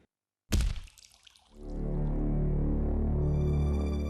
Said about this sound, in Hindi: अचानक मटका गिरकर टूट गया